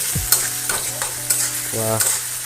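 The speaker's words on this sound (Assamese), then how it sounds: "ফ্ৰাইটো যেতিয়া কৰিব লগে লগে অলপমান এনেকৈ লৰাব লাগিব" Chicken sizzling in a kadai as a utensil stirs and scrapes it in several quick strokes, with a low steady hum underneath.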